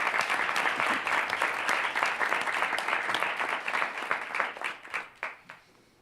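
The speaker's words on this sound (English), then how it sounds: "Can we do a round of applause for Alex presenting?" An audience claps at a student government senate meeting in a room. The applause is dense and steady, then thins into scattered claps that fade out near the end.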